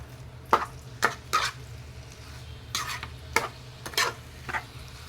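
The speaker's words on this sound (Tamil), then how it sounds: "வச்சுட்டு நல்லா இந்த மாதிரி கிளறி விட்டுடலாம்." Spoon stirring chicken kulambu in a pan over a medium flame, a few scraping strokes spaced a second or so apart over a low steady background hum, close by and moderately loud with no talking.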